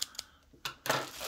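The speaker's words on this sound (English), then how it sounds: "These scissors might be getting dull." Dull scissors snip at a webcam package in a few short, sharp crisp cuts, close and fairly quiet, ending in a longer rustling tear, with no talking.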